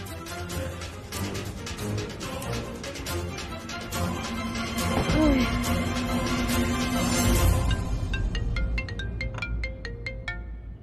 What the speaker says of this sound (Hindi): पंकज, ओ सवेरे सवेरे फोन